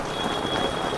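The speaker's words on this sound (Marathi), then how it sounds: "खूप जोरात पाऊस आहे." Heavy rain pours steadily during a flood along a road between Diva and Agasan, a dense, loud hiss with no pauses and no voices.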